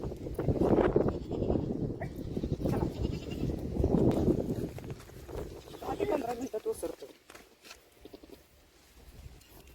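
A goat with a bloated belly, just dosed with medicine, gives loud, close bleats in the first half, under someone talking throughout.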